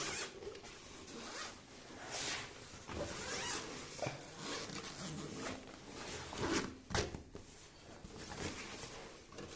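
A zipper on the third expansion gusset of a large three-zip suitcase is pulled open in a long run of close, raspy ticking strokes, with a few hand and fabric rustles in between.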